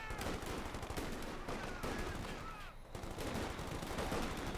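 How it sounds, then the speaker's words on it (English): Rapid automatic fire from Thompson submachine guns in the Company of Heroes 2 strategy game, dense overlapping bursts that run continuously with a brief dip, loud and close amid other battle noise. "The Thompsons unleashing a volume of hell there into the backs"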